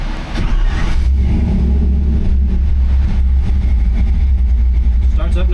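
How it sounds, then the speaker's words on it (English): A Chevrolet C10 truck with an LS3 V8 engine fires up and settles into a steady, close, loud idle, its low throbbing rumble continuous throughout. "Starts up nice, comes back down to idle good"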